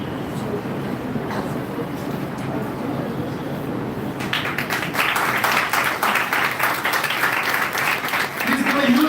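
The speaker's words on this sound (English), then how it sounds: "Please give a huge round of applause to Professor" An audience in a hall bursts into applause midway, clapping swelling over a quieter room tone and continuing steadily to the end, with a voice briefly audible at the close.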